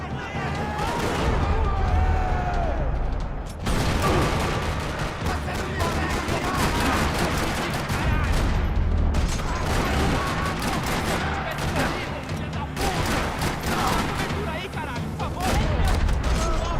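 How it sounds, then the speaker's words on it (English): Bursts of dense video game gunfire in a Max Payne style shootout in a park, loud rapid volleys of shots and booms that rattle on almost continuously, with a short lull near the start. "rattling with gunfire."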